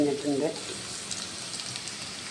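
Chopped ginger sizzling in hot oil in a home kitchen for a Kerala tamarind ginger dish, a steady soft crackle and hiss that follows a brief spoken word at the start.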